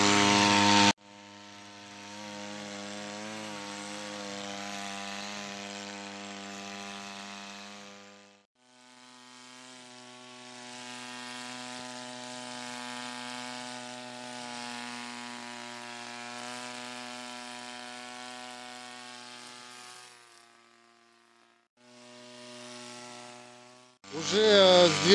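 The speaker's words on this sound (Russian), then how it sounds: "Японская мотокоса Эхо. Моя тетка сейчас ею пользуется. В данный момент стрижет." A Japanese Echo petrol brush cutter trims grass, its two-stroke engine droning steadily at high revs in long stretches, dipping and briefly cutting out between passes before revving again, loud and close.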